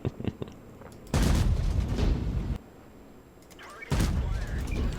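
Gunfire from another player in a video game, heard as two heavy, booming bursts with a lull between, preceded by a few faint clicks; a voice is faintly present underneath.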